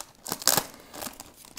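Sticky tape being pulled and peeled off a vinyl record box set: a few close, crackly rips and crinkles in quick bursts, the loudest in the middle, with no voices.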